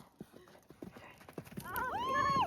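Horse hooves clip-clop in a steady rhythm during a cross-country riding lesson, moderately close, with a rising horse call near the end and no clear talking.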